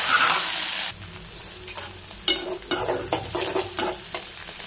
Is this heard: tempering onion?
yes